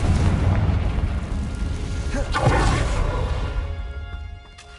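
A Confringo blasting spell goes off in Hogwarts Legacy, a loud, rumbling explosion that swells around the middle and then fades into a decaying roar.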